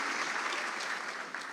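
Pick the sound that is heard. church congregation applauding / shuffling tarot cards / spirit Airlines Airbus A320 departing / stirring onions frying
church congregation applauding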